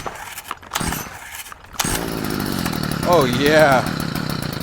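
A Stihl weed trimmer's small two-stroke engine, freshly fitted with a carburetor repair kit, catches and runs steadily after brief pulls, its loud buzz rising in a rev partway through, with a short spoken exclamation over it.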